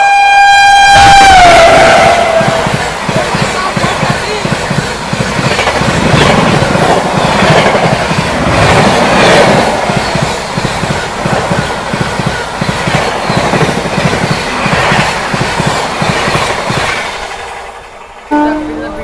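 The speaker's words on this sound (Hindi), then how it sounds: "अब आ रही है रांची राजधानी नई दिल्ली चलकर रांची जाने वाली रांची राजधानी एक्सप्रेस 20840" The Ranchi Rajdhani Express 20840, running from New Delhi to Ranchi, passes close by; a loud horn blast opens a long, heavy rumble with rhythmic clickety-clack of wheels that fades near the end.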